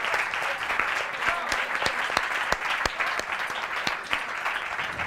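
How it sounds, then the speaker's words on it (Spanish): Audience at a WordPress meetup round-table in Marbella claps steadily for the helpers, dense sustained applause with sharp individual claps standing out throughout the room. "Incluso os pediría un aplauso, por favor, a esos auxiliares que nos han estado ayudando."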